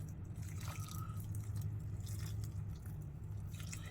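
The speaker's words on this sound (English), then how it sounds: "I'm going to give them a really good water and a really good mix." Worm bedding of peat moss being watered and mixed, with soft wet squelches, drips and stirring noises under a low background hum, fairly quiet and irregular throughout.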